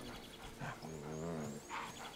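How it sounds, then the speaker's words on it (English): Wolf and dogs in The Witcher 3 video game growl and snarl in a low, rumbling run of animal vocalisations, moderately loud over steady game ambience. "A wolf and some dogs."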